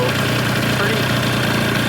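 A scooter engine, a Yamaha Aerox, idles steadily and loudly up close, with a constant buzzing rumble and rattling vibration throughout.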